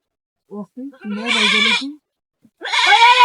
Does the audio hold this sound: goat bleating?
yes